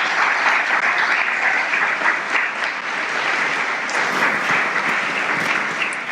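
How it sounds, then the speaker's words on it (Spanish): Loud, dense applause from a church congregation fills the whole stretch, steady and continuous with no voice standing out. "Dale un fuerte aplauso al Señor Jesucristo"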